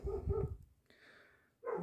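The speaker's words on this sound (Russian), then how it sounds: "Девочки мои загавкали на улице." Dogs bark outside in two short bursts, one at the start and one at the end, separated by a quieter whimpering gap, moderately distant, with no talking.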